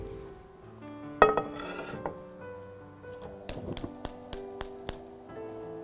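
A frying pan set out on a stovetop for frying potatoes and peppers, with one clanking knock of metal followed by a run of light rhythmic taps and clinks, close and fairly quiet.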